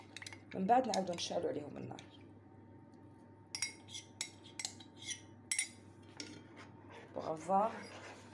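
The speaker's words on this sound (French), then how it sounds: "Vous mélangez énergétiquement le mélange de la maïzena avec les 2 cuillères à soupe de lait" A spoon clinks and scrapes against a bowl as cornstarch is mixed briskly with two tablespoons of milk, off the heat, for a Turkish trileçe caramel sauce. Bursts of clinking alternate with a person talking.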